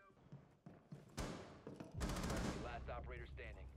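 AK rifle gunfire in Rainbow Six Siege on a multiplayer match: loud rapid bursts of shots and thumps, mixed with players talking over each other.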